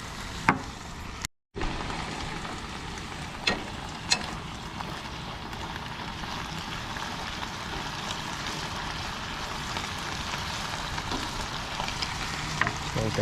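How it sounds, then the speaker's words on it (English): Salt-and-pepper seasoned steak frying in a pan at a rainy campground, a steady close sizzle running throughout with a few brief clicks and a short drop near the start. "Let that simmer for a while."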